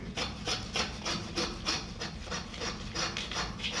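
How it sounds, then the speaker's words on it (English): A bone saw rasps steadily back and forth through a pig's spine, about a dozen even strokes with a gritty, scraping texture, close up and alone. "the spine here that I'm gonna go ahead and cut through with my saw"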